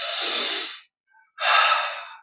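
Two long, steady breaths in a guided relaxation meditation, the first a smooth airy exhale of nearly a second, then a short pause and a second breath of similar length, close and clear with no talk.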